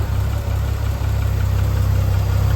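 A 1973 Triumph TR6's 2.5-liter inline six-cylinder engine with twin Stromberg carburetors idles steadily under the hood, a close, loud, even low rumble with no talk.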